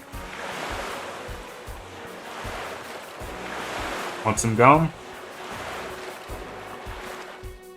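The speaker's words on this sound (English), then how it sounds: "Looks like we're at the mercy of the waves again." Steady ocean surf washes through a scene in the game 7th Stand User R, a constant rushing wash with soft rhythmic pulses, briefly overlaid by a short spoken line near the middle.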